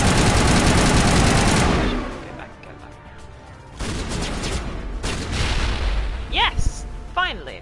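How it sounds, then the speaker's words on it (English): Grenade blast and gunfire in the Mass Effect video game: a long, loud dense roar of shooting and explosion at the start, then more bursts of gunfire and whooshing effects later. "Finally, a grenade kill."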